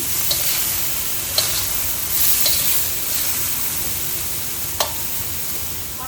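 Onions, shallots and the white parts of spring onions stir-fry in a pan with a steady loud sizzle and a few sharp utensil clicks against the pan.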